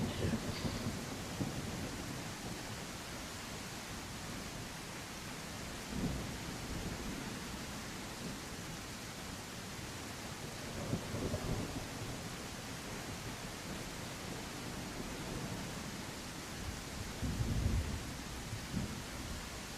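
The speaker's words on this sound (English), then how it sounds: "it's raining." Steady rain with low rumbles of thunder in the survival game The Isle, a continuous wash of rainfall with a few heavier rolls of thunder swelling up, no talking.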